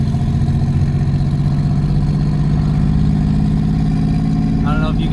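A twin-turbo V6 Mustang idles with a loud, steady low chug that sounds slightly uneven, as if missing a cylinder, close by with a brief faint whine near the end.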